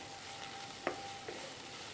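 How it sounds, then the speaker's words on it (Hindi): Green bell pepper sizzling in a frying pan, a steady soft hiss with two brief clinks of a spoon stirring, close and fairly quiet. "ग्रीन शिमला मिर्च, इसे भी अच्छे से फ्राई कर लेंगे।"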